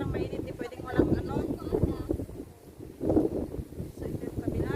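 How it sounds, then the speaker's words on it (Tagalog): Gusty wind buffets the microphone in low, rumbling surges outdoors at Tai O, with a voice faintly underneath. "Mahangin na guys, mahangin na."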